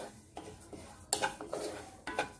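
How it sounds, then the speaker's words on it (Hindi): Split yellow mustard dal dry roasted in a pan for a low-oil lemon and chilli pickle, a spoon stirring and scraping in quick clinks and rattles, close and fairly quiet, with no talking. "तो मैं इसे थोड़ा सा ड्राई रोस्ट कर लूंगी।"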